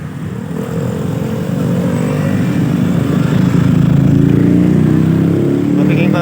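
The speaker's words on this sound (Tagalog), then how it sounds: "So may mga motor na bumabalik." Motorcycles ride back along a flooded street near SM East in Pasig City, their engines droning close and growing louder as they pass through traffic, with someone talking over the noise.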